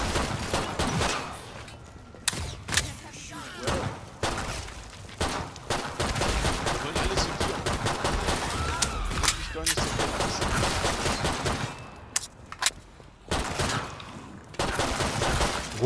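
Rapid, continuous gunfire from a 9mm pistol in the video game Killing Floor 2, dense overlapping shots with brief pauses, loud and close, mixed with other weapons firing.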